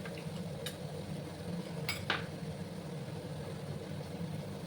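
Ground ginger, garlic and green chilli paste is stir-fried in a pan, producing a low steady sizzle with a few sharp metallic scrapes of a spatula against the pan, close but quiet, with no talking.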